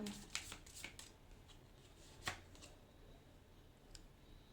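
Tarot cards being shuffled by hand, a run of quick papery riffles and snaps with one sharper burst in the middle, close and fairly quiet, with faint talk in the room.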